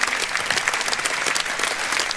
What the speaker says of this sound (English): Round of applause for some of our candidates here.